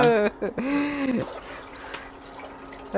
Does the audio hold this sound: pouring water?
yes